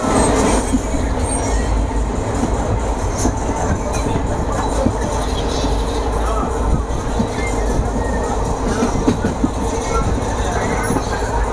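Trichy to Velankanni passenger connecting train running, with a steady loud rumble and rattle of wheels and carriages throughout, faint voices mixed into the din.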